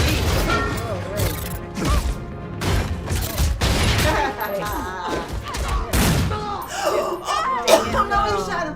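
A gunshot rings out in the Ant-Man film, one sharp report buried in a dense mix of score, crashes and shouting voices, with people talking and gasping over it.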